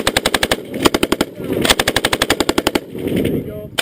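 A PKM machine gun fires two sustained bursts of closely spaced, loud rounds at a rapid steady rhythm, separated by a brief pause.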